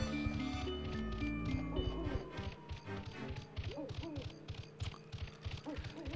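An owl hoots repeatedly in Donkey Kong 64, set over busy, dense game music and sound effects. The hoots come in rhythmic sequences and stay loud and steady throughout.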